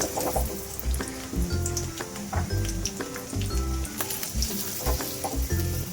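Onions sizzle and fry in hot oil in a pan for mutton sambar, a dense crackling hiss broken by repeated scraping and stirring knocks.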